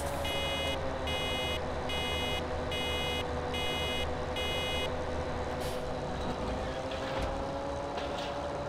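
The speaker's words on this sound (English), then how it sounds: "Oh, that beeping." Repeating vehicle reversing beeps from farm machinery in Farming Simulator 2017, six evenly spaced beep bursts over a steady engine drone, then the engine continues alone.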